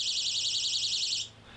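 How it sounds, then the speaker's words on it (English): An electronic bait alarm for a fishing rod sounds one continuous, warbling high-pitched buzz for just over a second before cutting off, loud and close. "it's a bait alarm"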